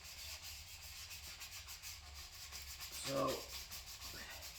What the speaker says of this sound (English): we keep sanding here.